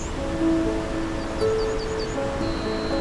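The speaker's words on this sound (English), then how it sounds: "the sound of still bubbling Johnston Creek fills your ears before your eyes could see it" Johnston Creek in Banff's Johnston Canyon bubbles along in early winter, a constant soft rush of flowing water with faint chirping birds and hum above it.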